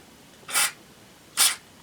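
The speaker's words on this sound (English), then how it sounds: "Spray some of that in there." Two short, sharp bursts of WD-40 lubricant aerosol spray hiss, each lasting a fraction of a second, separated by a brief pause.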